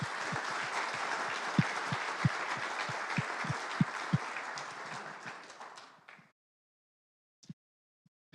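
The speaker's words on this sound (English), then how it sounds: "How about a round of applause for those great legislators, public officials?" Audience applause at an energy conference for legislators and public officials, a full roomful of clapping with a few sharp nearby claps standing out, fading away and ending in near silence with a couple of stray claps.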